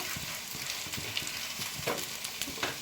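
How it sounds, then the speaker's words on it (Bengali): Steady oily sizzling of a sama rice paratha frying in a pan, with faint scraping and light taps from a spatula, no voices. "এবার আমি একটু তেল দিয়ে দিচ্ছি তেল দিয়ে সেঁকে নেব"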